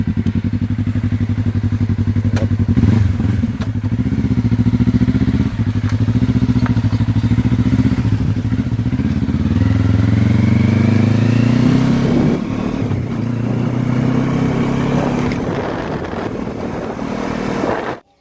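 A motorcycle ridden at speed: a loud, continuous engine drone that rises and falls as it revs and shifts, with heavy wind rush over the microphone throughout.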